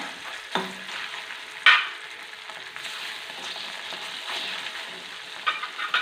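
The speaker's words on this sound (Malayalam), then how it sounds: "ഈ മീനൊന്ന് വറുത്ത് കോരാമേ ഞാനിന്ന് എണ്ണയ്ക്കകത്തോട്ട് ഇടുവാണേ" Fish dropped into hot oil for chammanthi podi, crackling and sizzling steadily with a few sharper spits and pops, close by with no talk.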